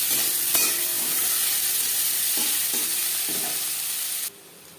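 Panch phoron and bay leaf fry in hot oil with tomato and onion for a Bengali chitol fish curry with potato and cauliflower, giving a steady close hiss with a few stirring clicks before cutting off near the end.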